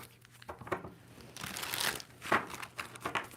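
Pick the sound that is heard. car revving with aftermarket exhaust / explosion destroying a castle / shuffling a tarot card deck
shuffling a tarot card deck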